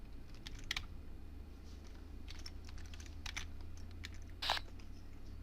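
Computer keyboard keys are pressed in sparse, quiet clicks and taps while driving in Euro Truck Simulator 2 multiplayer with keyboard and mouse, set against a low steady background hum.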